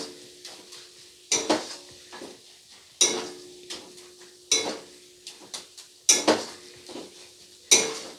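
Chicken masala stirred and fried in a pan over low to medium flame, heard as a regular series of sharp metal spatula scrapes and clanks against the pan, roughly every second and a half, over a soft sizzle.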